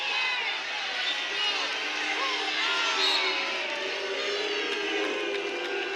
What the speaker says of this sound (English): Crowd just booing.